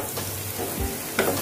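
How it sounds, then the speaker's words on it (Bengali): Masala spice paste cooking down in oil in a pan with a little water for a pineapple pabda fish dish, giving a steady low sizzle with a brief louder stir near the end. "এবার অল্প অল্প জল দিয়ে আমি মশলাটা ভালো করে কষিয়ে নেব।"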